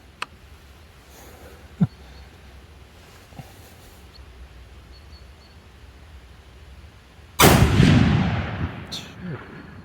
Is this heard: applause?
no